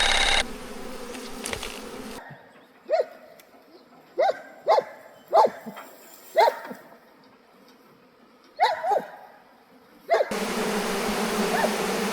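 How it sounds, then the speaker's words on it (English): A swarm of bees in a tree makes a low buzzing drone, while a dog barks nearby in about eight short, separate bursts. Louder broadband noise comes at the start and at the end. "So we gotta go capture the swarm of bees, I guess."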